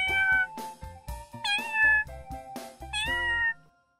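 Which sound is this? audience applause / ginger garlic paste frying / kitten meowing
kitten meowing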